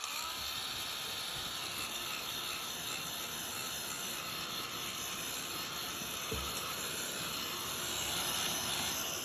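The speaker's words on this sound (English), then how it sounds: "I need a heat gun now because I want to make sure that's thoroughly dry before I start the stamping." A heated craft tool blows a steady, loud whooshing hiss with an even fan drone while drying gesso on a card, continuous throughout with a single faint knock midway.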